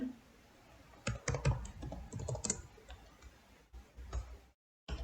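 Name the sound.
typing an SQL query on a computer keyboard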